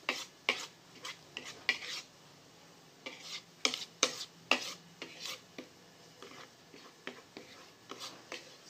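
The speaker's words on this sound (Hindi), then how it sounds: "सारे मसाले मिक्स हो गए हैं" A spoon scrapes and clinks in a pan as spices are stirred into bitter gourd and tomato, with quiet, irregular strokes and knocks sounding close by.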